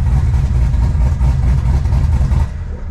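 A car engine idles loudly and close with a steady low rumble, dropping slightly in level just before the end.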